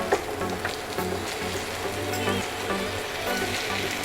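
Marinated chicken sizzles in a pan of cooked-down masala paste, a steady crackling hiss with small pops, no voices.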